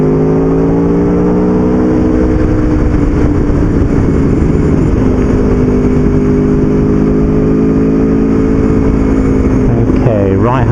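A motorcycle engine hums steadily through bends, easing under light braking and then rising as it accelerates out, loud and close with wind noise, alone without talk.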